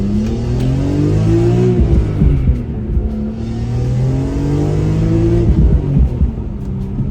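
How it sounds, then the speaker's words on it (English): A BMW E46 M3 accelerates hard from inside the cabin, its engine revving up through the gears in loud, rising sweeps with brief dips at the shifts, continuous and close with no talking. "Time for a little pull in this E46 M3."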